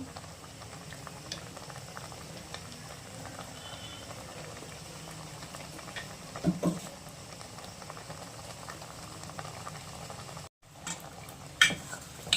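A pot of bottle gourd curry with coconut bubbles and simmers steadily at low volume, soft popping and gurgling throughout, with a brief dropout near the end.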